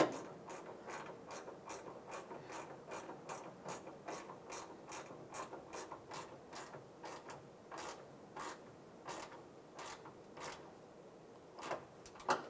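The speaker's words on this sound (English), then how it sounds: "take the 10mm ratchet wrench and we'll just snug this bolt down" A 10mm ratchet wrench snugs down a bolt during a headlight replacement on a 2007-2013 Chevrolet Silverado, giving a long run of quick, evenly spaced clicks at close range with no talking.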